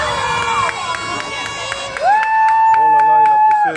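A crowd cheers and shouts at the start of a Heiva canoe race in Tahiti, French Polynesia, right after a countdown. The noise is loud and continuous, with voices rising and a sustained horn-like tone toward the end.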